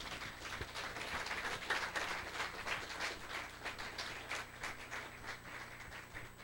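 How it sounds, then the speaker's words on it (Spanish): A church congregation applauds together in a steady, dense wash of clapping that holds evenly for several seconds without letting up. "¿Por qué no le da un aplauso al Señor de lo que Dios hace?"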